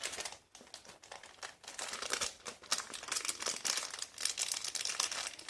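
Plastic jewelry packaging crinkles and crackles continuously as it is pulled away from summer accessories, a close, busy stream of crisp rustling with no talk.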